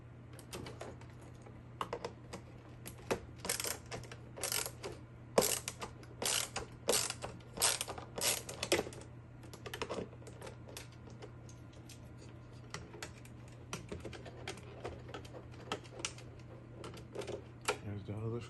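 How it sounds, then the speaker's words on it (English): A screw being removed from the white casing of a Whirlpool washer, heard as quiet, irregular ratcheting clicks from a hand tool over a steady low hum. "remove this screw on this white casing"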